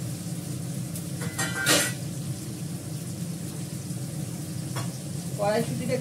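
Green peas tipped into simmering gravy in a kadai bring a soft, continuous sizzle and several sharp stirring clacks and scrapes, heard close and without any voices.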